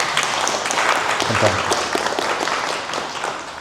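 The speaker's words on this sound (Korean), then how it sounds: "여기서 박수 한번 나와야 됩니다." Lecture audience clapping, a dense wash of applause that holds steady and slowly fades while a speaker briefly talks over it.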